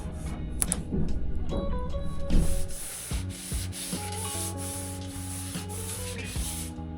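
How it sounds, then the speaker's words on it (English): Hardwood boat trim being longboard-sanded along its rounded edges, with rhythmic rubbing strokes of abrasive over wood, close and fairly loud, with background music and no speech. "Matt hit the rounded edges with a longboard, blending from one side to the next"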